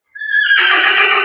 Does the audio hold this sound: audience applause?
no